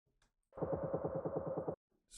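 A delay effect on a return track in a dark, groovy techno production: one dense rhythmic burst of stuttering, repeating echoes lasting just over a second, sounding alone between brief silences.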